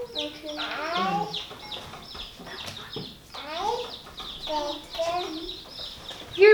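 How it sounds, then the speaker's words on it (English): Chicks on a homestead cheeping and chirping nearby in repeated short bursts, with clucking fowl mixed in and people talking over them. "We can hear the chicks in the background."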